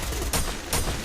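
Sniper rifle fire in the mobile battle royale game Free Fire sounds as two loud, punchy shots about half a second apart over constant in-game background noise.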